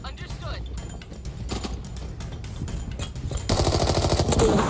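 Rapid bursts of gunfire in the game Arena Breakout crackle close and loud, continuous automatic shots with a louder barrage near the end, over faint talk.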